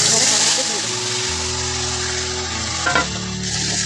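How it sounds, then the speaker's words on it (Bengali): Whole garam masala spices are fried in hot oil alongside marinated prawns for a quick prawn recipe, giving a loud, continuous sizzle and crackle close by with a low steady hum underneath and a brief clatter near the end. "এবারে গোটা গরম মশলা দিয়ে দেবো এই যে মাখিয়ে রাখা সমস্ত এগুলো"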